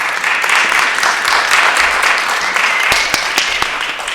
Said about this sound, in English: can we just give them a round of applause for the support?